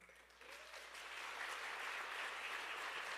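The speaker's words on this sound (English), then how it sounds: "And another round of applause for Danishk Iyer" Audience applause at a dance performance with live tabla accompaniment, starting light and swelling into sustained, even clapping from a large crowd that holds steady to the end.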